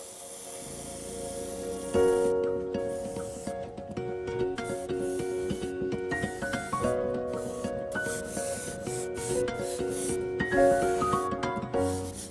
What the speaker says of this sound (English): we're gonna now spray this on to give it a really nice base coat